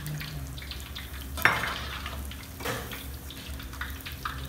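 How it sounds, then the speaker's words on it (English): Cauliflower pieces fry in a pan for a shak sabji, a soft continuous sizzle under kitchen clatter, with a sharp metal clank of a utensil against cookware and a few lighter knocks. "for that shark sabji we are frying this cauliflower also"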